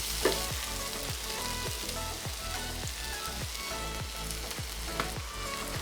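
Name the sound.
stir-frying cooked rice for paneer fried rice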